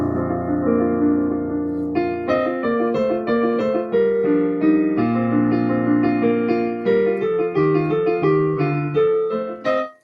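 A film theme is played plainly and mechanically, without expression. Evenly spaced melody notes ring over sustained low harmony, loud and clear with no voices.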